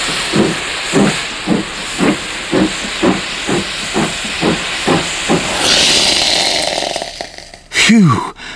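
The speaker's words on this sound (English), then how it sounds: "with heat and water combined, steam irons became one of those perfect products that it's hard to fault" A steam iron puffs out a rhythmic series of short bursts of steam, then releases a loud, sustained hiss. A brief falling tone follows at the end, with no voices.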